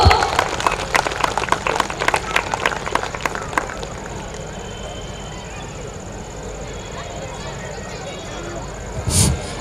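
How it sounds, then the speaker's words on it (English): Parents at a school annual day applaud a group of dancing children, a burst of clapping in the first few seconds that thins into scattered claps and a busy hall murmur, with a brief louder rustle near the end. "So once again, a big round of applause for the first group."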